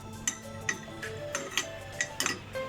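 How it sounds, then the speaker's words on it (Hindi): Chopped garlic is dry-fried in a frying pan, heard as a string of light metallic clinks and taps from a utensil against the pan, spaced irregularly over a faint background hum. "फ्राई पैन में मैंने गार्लिक को चॉप करके ऐड किया, ठीक है, और इसको फ्राई करना है"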